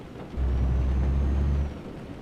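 Truck air brakes in Euro Truck Simulator 2: a single strong, steady low hiss-rumble that lasts about a second and a half, then fades back into the background engine hum.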